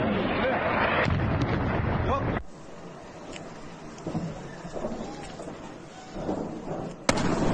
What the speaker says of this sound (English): before hearing more missiles and explosions.